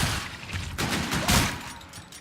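Rapid bursts of gunfire rattle out in a zombie-style video game shooter, dense overlapping shots with a couple of louder volleys, no voices present.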